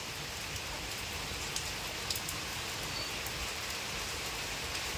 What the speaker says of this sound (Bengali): এই যে অনবরত বৃষ্টি পড়ছে।